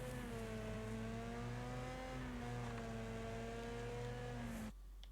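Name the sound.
cars racing in a video game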